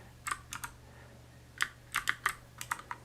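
Mac computer keyboard shortcut keys pressed in short bursts, a few quick clustered clicks followed by a steady run of separate key taps, close and clear with no talking.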